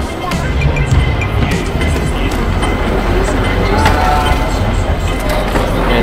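Steady rumble of an airport shuttle train ride in Hong Kong, carrying a continuous low rolling drone and faint rail clatter throughout, close and even in loudness.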